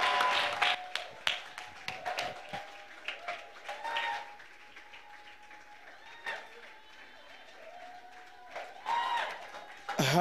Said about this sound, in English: Let us clap the hands for him.